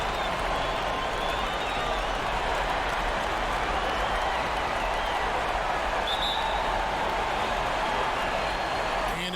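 Dense, continuous applause and cheering from a large Houston basketball arena crowd at a Rockets–Warriors Game 7 conference finals, a loud steady wash of clapping and crowd noise with faint voices mixed in.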